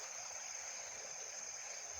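Strong flood water rushes in a steady, unbroken flow, a faint, even current with no talk over it.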